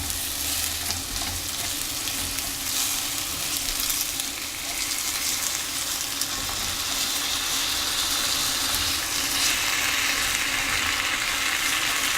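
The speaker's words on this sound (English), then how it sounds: "as that melts and begins to bubble, I'm going to put the apple in, and I'm going to just toss that apple around" Apple pieces sizzle loudly in melting, bubbling caramelised sugar in a hot pan as they are tossed around, a continuous close frying hiss with stirring noises and no talk.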